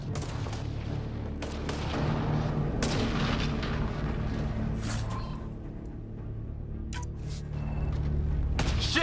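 Gunfire in the video game Mass Effect Andromeda, a dense barrage of sharp shots and heavy booming impacts layered over a rumbling background, with a brief quieter lull before the firing picks up again.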